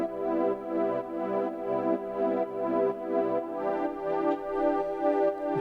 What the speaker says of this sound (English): We had some pads, which went like this.